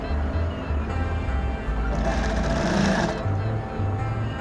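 A sewing machine runs steadily while a pocket is stitched onto palazzo pants, its motor hum close and continuous through the whole stretch, with a brief surge of faster stitching near the middle.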